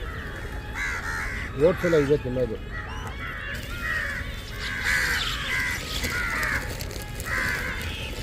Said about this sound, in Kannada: ನೋಡಿ ಕಾಗೆ ಬರುತ್ತೆ ನೋಡಿ